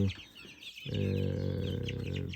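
A hen clucks with a low, steady, continuous clucking after a brief pause, with faint chirps from chicks in the background.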